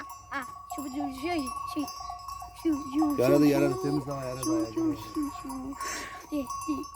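Bells clink among a flock as sheep bleat nearby, while someone talks over them in Turkish.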